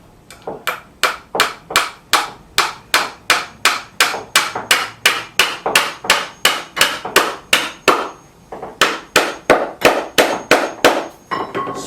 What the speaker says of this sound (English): Swear to God it was the hammer.